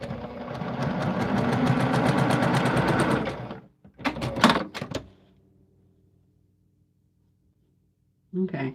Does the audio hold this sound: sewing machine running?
yes